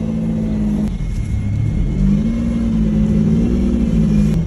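A Lamborghini Diablo V12 pulls away, its engine rumbling loudly and steadily from inside the cabin with a low droning tone that rises slightly as it gets underway.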